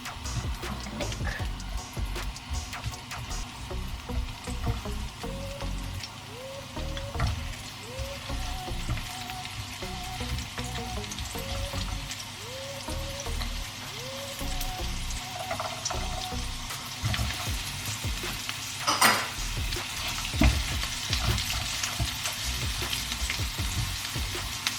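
Garlic and onion sauté for pinakbet in a pan, a steady close sizzle and crackle running throughout with occasional stirring scrapes and a brief louder burst near the end.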